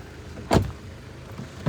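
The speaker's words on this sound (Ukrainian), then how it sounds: "Дверечки навіть так закриваються." A Volkswagen Golf Plus car door shutting, one solid close thud followed by a quieter second knock a moment later against low background hiss.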